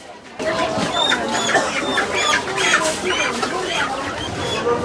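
Many layer hens clucking continuously and close by at a market, a dense overlapping chorus of clucks with no break.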